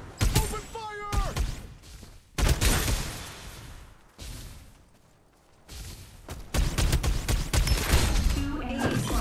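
Gunfire in the battle-royale video game Farlight 84, loud rapid bursts that come in several dense volleys separated by brief lulls, with faint voice callouts underneath.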